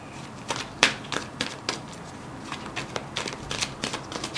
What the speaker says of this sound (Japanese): それからちょっと最後にもう一枚カード引いてみましょう。